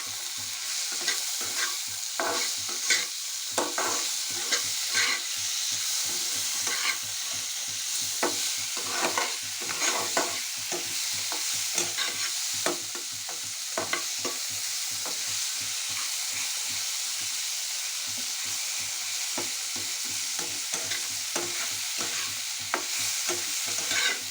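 Dried sea fish (lotka shutki) frying with turmeric in a pan, a constant bright sizzle broken by frequent rapid scraping strokes of a spatula stirring throughout.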